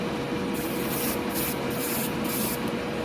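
Continuous hissing blue spray paint test close by, before painting a scratch-built miniature pod racer, with broadband noise throughout and several short bursts of sharper hiss layered on top.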